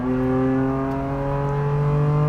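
A BMW M4 GT4 track-only race car accelerating in second gear out of a corner, a loud, steady engine drone with strong tones that climb slightly across a few seconds, close and continuous, with no talking.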